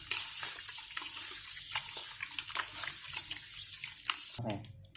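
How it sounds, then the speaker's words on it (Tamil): Goat intestines being washed by hand with turmeric powder and rock salt in water, wet splashing and sloshing with soft clicks, close up, with a voice heard faintly. "நெக்ஸ்ட்டு மஞ்சத்தூள், கல்லுப்பு போட்டு நல்லா நம்ம வாஷ் பண்ணி எடுத்துக்க போகிறோம்"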